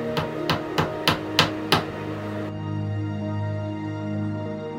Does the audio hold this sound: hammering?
yes